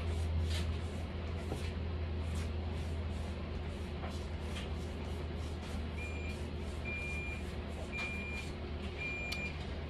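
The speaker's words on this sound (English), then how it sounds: "Excuse my washing machine in the back. I don't know why, but it'll be freaking out and beeping sometimes." A washing machine beeps in short, evenly spaced electronic tones in the background, under steady low hum and room noise.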